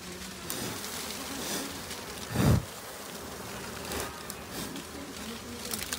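Small kombu honey bees swarm around a large honeycomb, a continuous soft buzzing hum with a brief louder rustling swell partway through, close and steady without talk.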